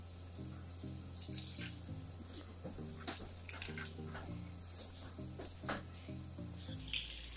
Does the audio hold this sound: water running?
yes